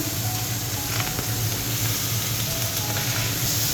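Small mourola fish fry in hot oil in a pan and get turned over, giving a steady, loud, close sizzle and hiss with faint clinks.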